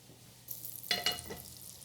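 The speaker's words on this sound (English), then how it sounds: "So I'm going to melt some butter." Butter melts in a pan on the stove, giving a soft crackling sizzle that swells briefly with a few bright pops, then settles to a quiet fry.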